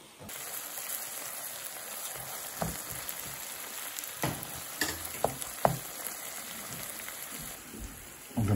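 Cauliflower frying in a pan gives a steady, close sizzle with a few sharp crackles and pops scattered through it, and no one speaks.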